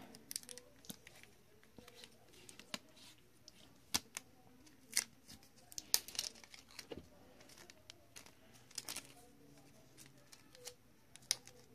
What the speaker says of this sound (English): Yes, we'll make another piece of tape right now.